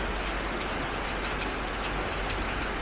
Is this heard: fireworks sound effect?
no